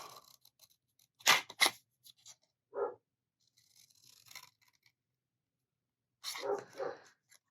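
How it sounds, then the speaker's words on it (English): Dogs bark in a home while a paper craft project is being cut. A few short barks come in separate bursts with quiet gaps between them, somewhat distant and with no talking. "if you hear dogs barking, I apologize"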